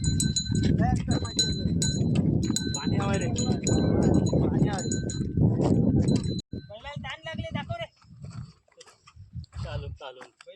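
A newly bought farm bull wearing a cowbell, its bell clanking repeatedly and rhythmically up close as the animal moves, with people talking over it and brief pauses in the second half.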